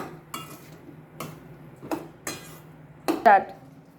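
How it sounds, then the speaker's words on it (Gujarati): A utensil stirs tomato soup in a metal pot, scraping and clinking against the sides in four or five separate strokes, close and clear, with a short voice near the end. "અને આને હલાવી નાખું"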